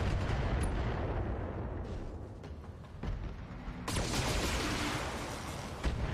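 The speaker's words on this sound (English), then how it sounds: "Good rockets. I liked the one that went into space." Rocket fire in BattleTech roars almost continuously, a dense rumbling barrage of launches and impacts with a sharp new burst midway, loud and close with no talking.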